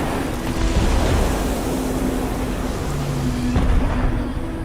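Rolling waves and open water wash steadily through a scene from the Ponniyin Selvan 2 film, a broad continuous surf with a low hum of wind, fairly loud and with no voices.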